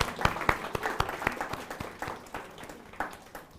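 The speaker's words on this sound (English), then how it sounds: "Can we clap for our speakers, please?" An audience claps for the speakers at a panel session on youth mental health, a scattered, moderately faint round of applause lasting a few seconds.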